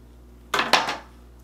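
Scissors snipping the corners of a flattened taepyeongso reed, two or three quick close cuts in succession in an otherwise quiet room.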